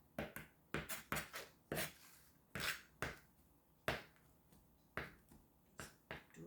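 Sharp, irregular knife chops through boiled eggs strike a cutting board up close, each a crisp tap separated by short pauses.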